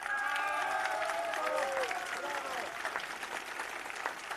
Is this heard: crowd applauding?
yes